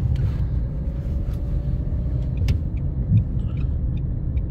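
A manual-transmission car accelerating during a driving lesson, heard from inside as a steady low engine and road rumble with a faint rising tone and a few small clicks and knocks, and no talking.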